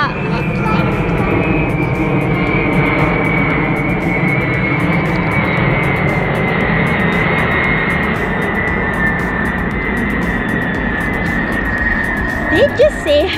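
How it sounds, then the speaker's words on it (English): Loud, continuous roar of an airplane engine close overhead, holding steady throughout and drowning out the surroundings, with a voice briefly near the end. "Did you see how close is the airplane to our rooftop?"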